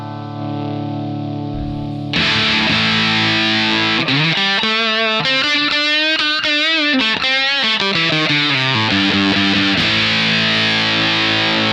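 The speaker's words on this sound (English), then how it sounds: "It's almost a distortion pedal with the little fuzz in there." An electric guitar through an Electro-Harmonix Satisfaction Plus fuzz pedal plays heavily distorted, sustained, fuzzy notes and bends, loud and close, starting after a brief quieter hum with no voices.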